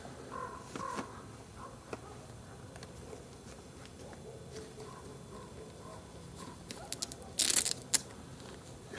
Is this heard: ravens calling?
yes